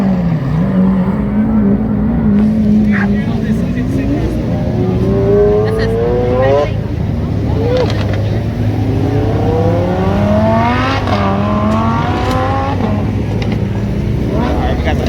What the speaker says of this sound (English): Give me another rev.